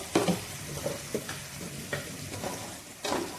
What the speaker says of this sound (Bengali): হয়ে গেছে, এখন একটু কষিয়ে নেব।